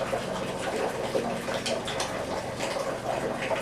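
Water runs from a tap in a steady splashing stream, close by, with faint irregular spatters over the flow.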